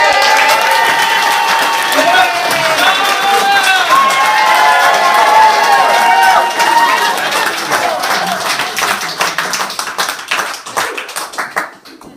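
An audience at a live storytelling night in an Irish pub claps and cheers for a storyteller, with loud, dense applause that holds steady and then thins into scattered claps near the end, with voices mixed in.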